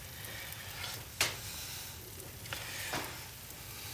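Eggs fry inside hollowed-out bagel rings under a grill press on a hot griddle, giving a steady low sizzle with a few sharp scrapes or clicks standing out.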